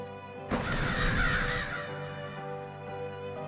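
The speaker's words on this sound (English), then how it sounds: "So many ravens. Or crows, rather." Crows caw harshly in a dark point-and-click horror adventure game, a loud burst of overlapping calls breaking in after a half-second pause and carrying on over a steady droning ambience with no talk.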